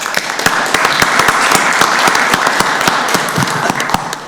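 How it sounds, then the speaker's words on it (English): A round of applause at a county board of commissioners meeting: many hands clapping close and crisp, sharp individual claps standing out from a steady, even roar that holds for several seconds. "Let's give her a round of applause."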